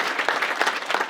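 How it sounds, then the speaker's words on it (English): A crowd at a factory groundbreaking applauds a team with a brief, loud burst of dense clapping, close and steady for about a second. "how about a round of applause for them?"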